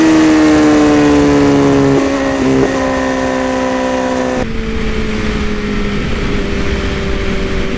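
A motorcycle in ludicrous mode accelerating hard, its engine whine climbing steadily in pitch as it pulls, loud and close, with a brief dip partway through before the rising drone continues.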